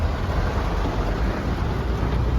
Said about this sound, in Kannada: ಜೊತೆಗೆ ಮಳೆ ಬೇರೆ ಬರ್ತಾ ಇದೆ, ಹೆವಿ ಮಳೆ.